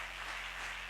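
A church congregation claps in a steady, dense wash of applause, brief and moderately distant, with no distinct cheering voices standing out.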